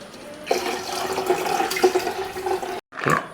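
Water pours in a steady, splashing stream for a couple of seconds, stops abruptly, then splashes again in a short burst, close and fairly loud.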